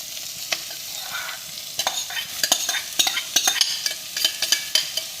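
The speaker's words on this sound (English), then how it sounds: "At this stage, I'm going to be adding in finely chopped capsicum." Finely chopped capsicum stir-fried with crispy onions in a hot pan, an even sizzle broken by a quick series of sharp scraping and tapping strokes from stirring, close up and without talk.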